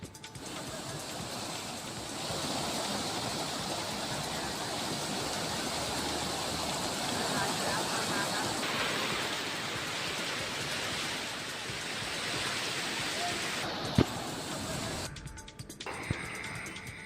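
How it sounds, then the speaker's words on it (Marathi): The Chandeshwari waterfall pours after heavy rain, a loud, dense, unbroken roar of rushing water that holds steady and shifts slightly near the end, with no voices. "जोरदार पावसानं चांदेश्वरी धबधबा वाहू लागलाय"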